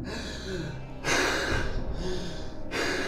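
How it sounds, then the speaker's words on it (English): Someone sitting in a cold-water challenge takes heavy, labored breaths close to the microphone, two loud gasping inhales with rough, snorting exhales between them. "my breathing is actually getting kind of hard to breathe"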